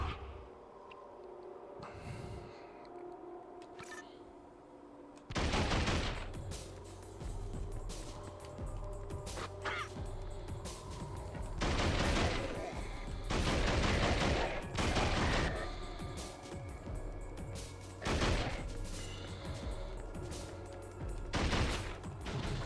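Submachine gun fire in a video game crackles in repeated loud bursts of rapid shots over a steady rumbling backdrop of engine-like noise, sustained throughout.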